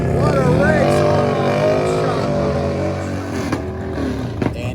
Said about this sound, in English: Gotta love that all-motor rumble.